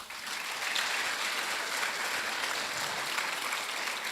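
An audience claps steadily at a school prize-giving evening, a dense and even patter of many hands that holds at a constant loudness for several seconds.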